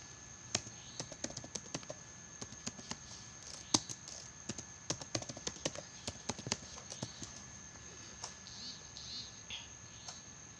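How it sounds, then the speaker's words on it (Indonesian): A password is typed on a computer keyboard while setting up a Samba server, giving irregular, quick key clicks through the whole stretch over a faint steady hiss. "passwd lalu ketikkan passwordnya."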